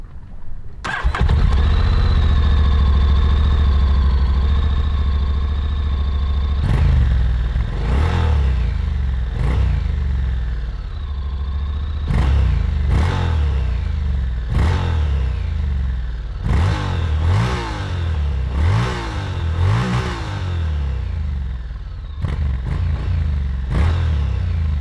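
A 2021 Honda Forza 750 motorcycle engine starts, settles into a steady idle, then revs in a series of sharp throttle blips, loud and close with no talk.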